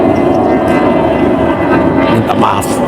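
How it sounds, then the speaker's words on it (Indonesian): An airplane passes overhead during an outdoor religious reflection, heard as a loud, continuous broadband roar that fills the clip, with a voice faintly beneath it. "Minta maaf, ada pesawat lewat."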